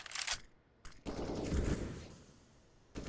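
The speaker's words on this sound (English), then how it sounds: "AK sprays back and forth for the wall bangs to both sides of things." Automatic AK rifle fire sprayed back and forth through walls in a Counter-Strike match on Vertigo, heard as bursts of dense, loud rapid shots separated by short pauses, with no talking.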